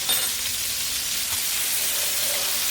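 Minced garlic sizzles in a hot skillet alongside asparagus, a steady broadband frying hiss that holds evenly throughout at close range, with no one talking.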